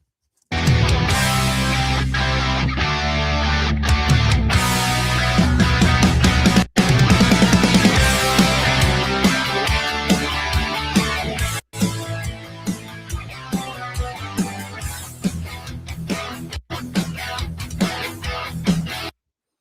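Full, loud music plays continuously, cutting off abruptly a few times and restarting at a similar level, with dense drums and instruments throughout.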